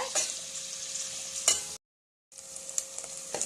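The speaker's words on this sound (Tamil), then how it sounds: "இப்போ இதை லைட்டாக ஒரு ரெண்டு நிமிஷத்துக்கு வதக்கிக்கிடலாம் ஹை ஃப்ளேமில்" Onions sauté on high flame for Chettinad chicken curry, a close hissing sizzle with a few stirring clacks, cut by a brief gap of silence before the frying resumes.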